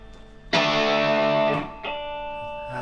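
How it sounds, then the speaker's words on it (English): An electric guitar run through a Proco Rat distortion pedal strikes a loud, gritty sustained chord, then changes to a second ringing chord, alone and close. "that's paired up with a Proco Rat, which is a distortion pedal that's still fairly new to me."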